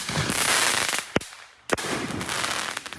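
Backyard fireworks between neighbors, a dense crackling barrage broken by two sharp loud bangs, the crackle dying briefly before starting up again.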